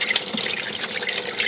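Washer fluid draining from the partly removed front washer pump of a 2013 BMW X5, a steady, fairly close trickle and splash of liquid running continuously without a pause.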